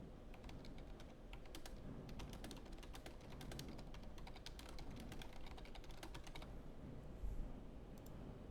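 Fingers type on a computer keyboard, entering text into a PowerPoint text box: rapid, irregular clusters of light key clicks, close but soft, continuing steadily and thinning toward the end.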